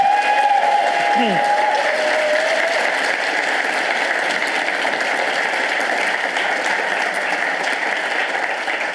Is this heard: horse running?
no